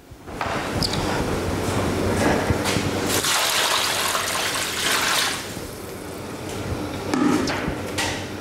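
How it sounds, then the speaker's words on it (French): Fifteen litres of water rush steadily into a large pot of autumn soup, a continuous broadband gush that swells and eases over several seconds with no voices. "après, je rajoute l'eau assez rapidement"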